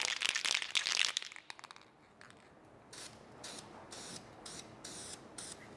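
Aerosol can of Duplicolor DE 1635 semi-gloss black engine enamel sprayed on a Duramax truck part in a paint booth, starting with a loud close hiss, then a series of short regular bursts.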